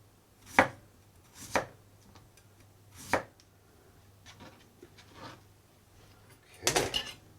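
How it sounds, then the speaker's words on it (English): A sharp knife slices through radish on a board, with four or five distinct chopping strikes spaced about a second apart and a final quick cluster of cuts, fairly close in a quiet room. "What I'm going to do is slice these."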